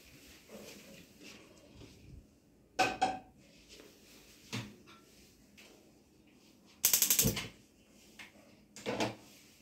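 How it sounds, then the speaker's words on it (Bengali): A gas stove burner is lit in a home kitchen, with sharp ignition clicks and a burst of flame, alongside clanks of pans and utensils, with no talking. "ফার্স্টে আমরা গ্যাসটাকে জ্বালিয়ে নেব।"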